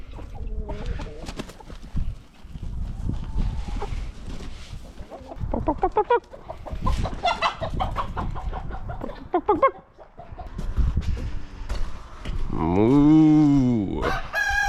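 Farmyard chickens cluck and a rooster lets out a loud, close cock-a-doodle-doo near the end, with busy clucking and scattered noise throughout at morning feeding time among cows and cats.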